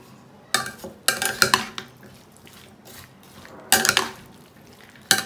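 Salsa being stirred with mint and oil in a bowl, with bursts of spoon scraping and clinking against the sides, wet mixing noises, and a pause before a second round of stirring.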